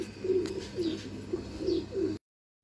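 Pigeons belonging to Ustad Suhail Ansar Khan, giving a series of soft, throaty coos in a regular rhythm, about five phrases close by, with no talking.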